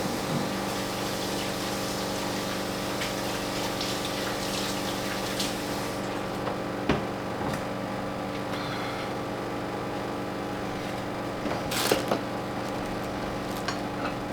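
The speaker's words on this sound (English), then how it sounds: "Let me wash my hands." Kitchen tap running steadily while hands are washed, a continuous close splashing hiss with occasional louder spatters and clunks as hands move under the stream.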